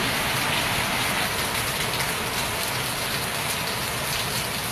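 Steady, dense rain pours down, a constant loud hiss of drops hitting surfaces with no voices.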